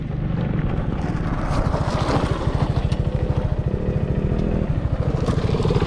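Motorcycle held in second gear riding toward sand dunes, its engine a steady close pulsing drone with wind buffeting throughout, no talk.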